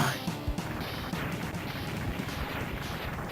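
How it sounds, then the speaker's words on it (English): A loud, dense explosion from the SNES game Mega Man X3 roars in a sustained crash, with repeated booming impacts rumbling for a few seconds. "Explosion."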